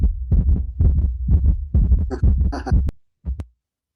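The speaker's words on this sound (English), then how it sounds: "I should do the heartbeat." A heartbeat sound effect from a documentary: steady, deep, rhythmic thumps roughly twice a second, close and fairly loud, stopping abruptly near the end before one last isolated beat.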